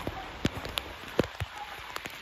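Rain falls outdoors beside a swampy river, a soft steady patter broken by scattered louder drops splashing nearby, with faint voices in the background.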